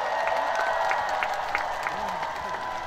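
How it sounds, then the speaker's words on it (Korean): Festival audience clapping outdoors at a stage show: a steady wash of applause from a crowd at moderate distance, continuous for a few seconds with some faint voices mixed in. "박수 한번 주세요."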